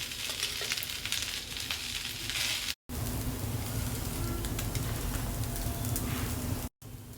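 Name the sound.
cooked rice being mixed and fried in a pan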